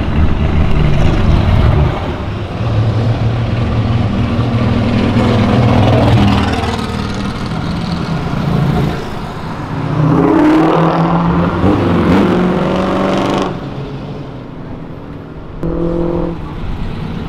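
Sports cars such as a Nissan 370Z, Mustang and Ferrari downshift and rev along Avenida Europa, loud engine roars rising and falling with throttle blips and a passing car dropping away near the end.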